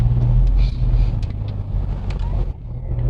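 A 2004 Honda Accord with the 2.4 i-VTEC engine drives along, its steady low engine drone and road rumble filling the cabin, continuous and fairly loud with no speech.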